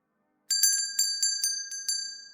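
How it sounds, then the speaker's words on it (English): A small shop door bell gives a bright, gentle tinkle when the door opens, sounding as a quick cluster of clear chimes that keep ringing and fade slightly over about two seconds. Nobody speaks. "Gentle tinkling bell rings."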